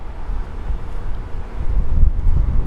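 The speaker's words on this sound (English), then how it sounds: "Sorry, this is getting windy." Outdoor wind buffets the microphone with a low, rumbling roar that swells and surges steadily, loud and close, beside an Infiniti QX60 SUV.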